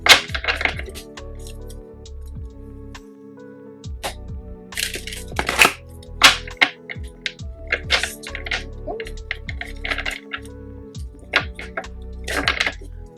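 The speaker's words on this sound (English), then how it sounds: "And I like to shuffle them all the way around." Tarot cards shuffled by hand in a run of crisp, irregular riffling clicks and snaps, close and fairly loud, with short pauses between bursts.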